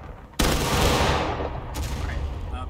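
A massed musket volley in War of Rights erupts in one loud, sharp crash that rolls into a long fading rumble, followed by a second smaller report and scattered distant shots.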